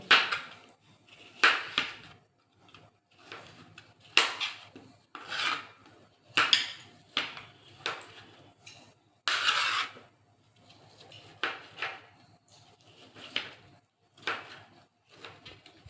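Knife cutting muskmelon into large chunks for juice, a series of short rasping slices and scrapes on a board, fairly close, with no talk.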